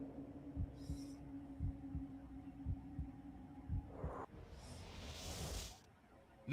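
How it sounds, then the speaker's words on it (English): A slow, steady thumping heartbeat plays over a low hum in the PS2 video game Psi-Ops: The Mindgate Conspiracy, joined near the end by a breathy whoosh. "I can feel the heartbeat in my head here."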